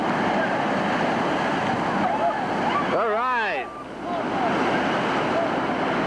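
Rushing whitewater on the Gauley River churns continuously with a roar as a raft slams through a wave, briefly joined by a short spoken phrase and a bending tonal sweep in the middle.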